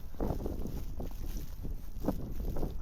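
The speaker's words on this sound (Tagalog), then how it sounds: "Lakas ng hangin." Strong wind buffets the microphone in a continuous low roar, with gusty swells rising and falling throughout, on a snowy winter morning.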